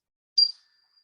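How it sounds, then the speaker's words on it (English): A single bright strike on a meditation chime, its clear high tone ringing out briefly and fading to a thin sustained shimmer in otherwise silent surroundings. "So what we do is we play the chime."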